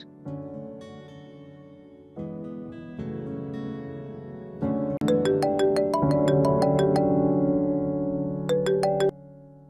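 A mobile phone plays a melodic ringtone that repeats over and over and grows louder in steps. Bright chiming tones ring out alone with no talking until the ringing stops shortly before the end.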